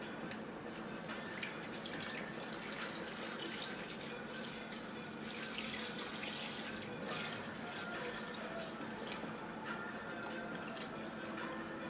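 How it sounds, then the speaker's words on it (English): Regular tap water runs from a sink into a container, a steady, close, continuous splashing stream with a soft gurgle and no voices. "I just got some regular tap water from the sink, and I'm going to go ahead and fill that."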